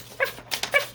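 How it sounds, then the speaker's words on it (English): A dog gives a few soft, muffled yips and whimpering barks, brief and quiet, like stifled sounds made while sleeping. "my dog is over here in her sleep barking"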